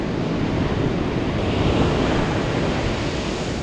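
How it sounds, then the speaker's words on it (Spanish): Ocean waves break and wash steadily onto a beach along the Portuguese Way pilgrimage route, a loud, dense rushing surf mixed with wind buffeting the microphone, with no voices. "¿Qué opina usted de las olas estas?"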